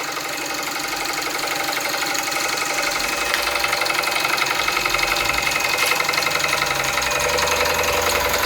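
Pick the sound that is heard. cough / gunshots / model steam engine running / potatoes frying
model steam engine running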